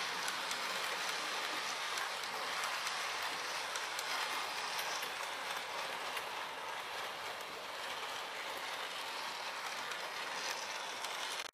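Princess Alexandra, a Princess Coronation class steam locomotive, pulls away in a steady, dense rumble of rail noise that holds at an even level throughout, with no voices.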